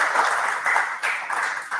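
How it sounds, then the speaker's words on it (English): An audience at a deep-tech business event gives a round of applause, a thick, steady patter of many hands clapping with slight surges, heard alone without talk. "Round of applause."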